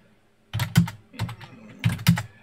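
Keys on a computer keyboard are pressed in three short clusters of rapid, close, crisp clicks, each separated by brief pauses, in an otherwise quiet room.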